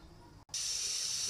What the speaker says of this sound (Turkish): Evet gördüğünüz gibi çorba pişiyor.